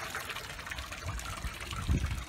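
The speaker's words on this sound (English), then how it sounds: "Put some water in the tanks to test out the pump" Water runs into an RV trailer's tanks during a plumbing test, a steady close trickle and gush of liquid with a slightly louder surge near the end.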